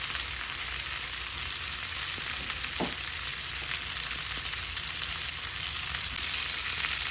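Lamb chops frying in butter and oil in a pan: a steady, loud, close sizzle with a faint scrape partway through, carrying on alone without any talk.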